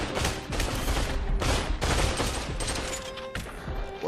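Shotgun blasts in a first-person shooter video game. Several loud, sharp booms come in quick succession over a dense mix of game noise.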